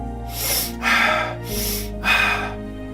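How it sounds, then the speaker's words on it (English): Four quick, deep breaths taken as a breathing demonstration, alternating sharp inhales and exhales in a steady rhythm, close and fairly loud with no talking. "The repetitive breathing more quickly and deeply, this kind of thing"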